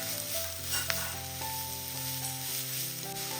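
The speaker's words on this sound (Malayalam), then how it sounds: "ഒന്ന് ഇളക്കി കൊടുക്കാം." Grated carrot and salt sizzle steadily in a frying pan as they are stirred, a continuous close frying hiss with faint scrapes and no talking.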